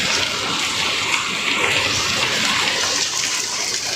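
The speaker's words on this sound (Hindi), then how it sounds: "ओले की तरह आवाज़ आ रही है, इतनी बड़ी बड़ी बूंदें गिर रही हैं" Dense, heavy rain pours steadily in a loud, continuous hiss and patter, like hard drops or hail striking a surface close by.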